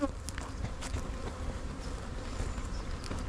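Honey bees buzzing around hives in a large bee yard, a dense, continuous hum with individual bees passing close by.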